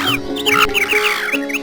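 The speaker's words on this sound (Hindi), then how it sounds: "आज पक्षियों की चहचहाट भी सुनाई दे रही है।" Several birds chirp and squawk in quick, overlapping calls, close and fairly loud, in a rapid irregular rhythm with no one talking.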